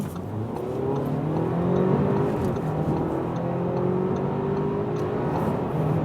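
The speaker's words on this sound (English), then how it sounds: "we'll start from 40 kilometers an hour and accelerate it out" A sports sedan, such as a BMW 330i, Mercedes C300 or Audi A4 45 TFSI, accelerates hard from 40 km/h, its engine droning loud and steady from inside the cabin with pitch climbing through the gears.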